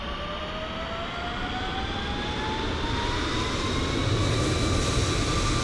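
Simulated aircraft engine from Microsoft Flight Simulator, a steady broadband roar with rising whining tones that climb in pitch as the engine spools up, continuous and fairly loud throughout with no talking.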